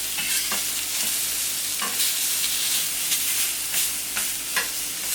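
Giant prawns frying in a pan with Cajun spices that are starting to burn, a loud, steady sizzle with scattered crackles and the scrape of stirring, no voices.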